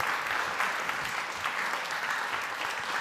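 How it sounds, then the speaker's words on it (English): Audience applause at a music awards show, a steady, moderately distant wash of clapping hands that carries evenly throughout. "So give them a big round of applause."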